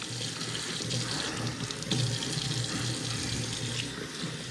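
Cold tap water runs steadily into a kitchen sink while raw chicken is rinsed for tandoori chicken, a continuous close splashing stream with no talk.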